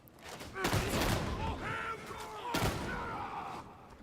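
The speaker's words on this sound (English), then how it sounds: "I can't just eat 2 shotgun shots." Heavy shotgun blasts in Warhammer 40k Darktide, two loud booming shots about two seconds apart amid game voices and effects.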